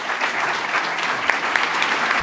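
An audience at a Spanish book presentation honoring Ramiro de Maeztu breaks into steady applause, a dense wash of clapping hands that fills the room evenly for a couple of seconds with no one speaking.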